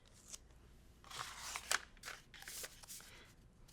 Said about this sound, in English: Just cut as close to the line as you can